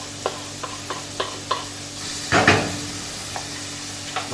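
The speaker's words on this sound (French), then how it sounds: "Les échalotes qu'on va faire suer donc sans coloration" Shallots sweat gently in butter in a pan for a risotto, with soft stirring taps and scrapes recurring every half second or so, a brief louder sizzle burst midway, and a quiet background hum throughout.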